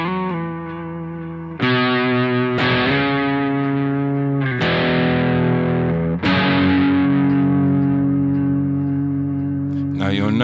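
Electric guitar played through a heavier amp model on a Boss GT-1000 multi-effects unit, ringing distorted chords struck about four times with sustain and echoing delay tails, loud and alone.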